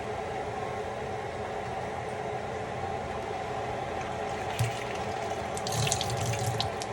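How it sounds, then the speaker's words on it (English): Water running from a tap into a pan of taco seasoning, a steady close splashing wash throughout, brightening with sharper spatter near the end. "You know, you gotta add your water."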